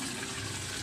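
Water pours steadily into the wash tub of a washing machine under repair for a leak into the dryer side, a continuous close rushing gush with no talk.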